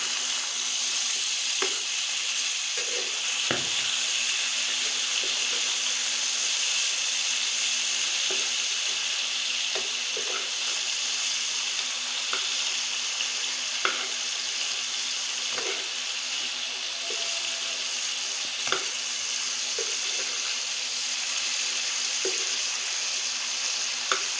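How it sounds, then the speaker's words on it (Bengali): Chicken pieces frying in a pan for a potato chicken curry, a loud continuous sizzle of hot oil with occasional clicks and knocks as the meat is turned, no talking. "এখন আমি এই চিকেনগুলো ভেজে নেবো সুন্দর করে দেখুন আমি মাংস এখন উল্টিয়ে দিচ্ছি"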